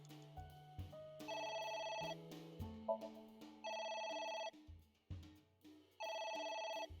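A phone rings in repeated electronic bursts, three ring cycles between shorter melodic tones, fairly quiet and with no talking.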